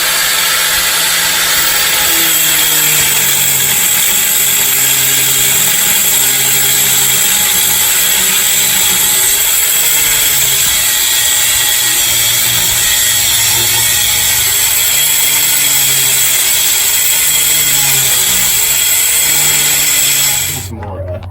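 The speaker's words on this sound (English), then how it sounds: "You just gotta cut the nut." A power tool cuts a nut on a GM PD-4104 bus, giving a loud, steady grinding whine that runs unbroken for about twenty seconds before cutting off abruptly.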